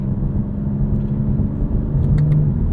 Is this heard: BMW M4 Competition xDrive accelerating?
yes